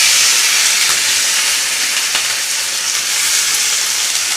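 Fish frying in a pan of hot oil for a home lunch, a steady broad sizzle and hiss running evenly throughout, close and fairly loud, with no talking.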